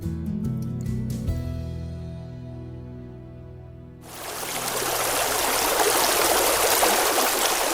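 San Juan River flowing in a steady, broad rush of water that begins abruptly partway through and holds, loud and close, after soft music fades out.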